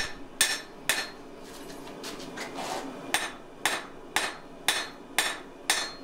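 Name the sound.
hammer forging a bevel on a steel kukri blade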